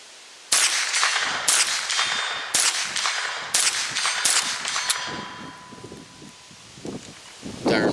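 A Ruger 10/22 rifle fires a series of sharp, loud cracks at a range about 50 yards from the target, roughly one shot per second, each followed by a metallic ring and faint outdoor rustling.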